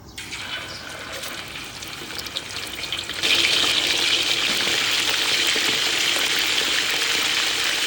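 Sun-dried beef fries in oil, a soft sizzle that swells suddenly into a louder, dense, steady hiss partway through and holds close and constant.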